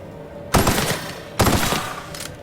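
Gunfire from the video game The Outer Worlds, two loud, close bursts of rapid automatic shots, each breaking off into a ringing decay before the next.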